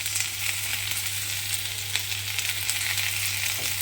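Potatoes and bitter gourd frying in a pan of oil, a steady close sizzle with faint crackles and a low constant hum beneath, no voices.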